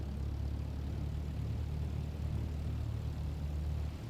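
A propeller airplane passes in Microsoft Flight Simulator 2024, a steady low engine drone holding throughout at moderate loudness with no talk over it.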